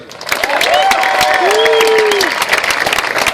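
An audience at a Blendtec ribbon cutting applauds their CEO, Craig Taylor, with steady, dense clapping and some cheering that holds loudly throughout.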